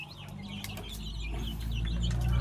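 Chickens and small chicks cluck steadily at feeding time, a busy flock of mixed young and grown birds heard close, growing a little louder toward the end, with no talking.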